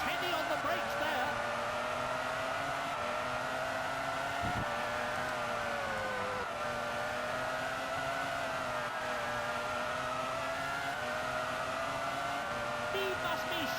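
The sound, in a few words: Formula 1 car braking at Argentine Grand Prix, from a video game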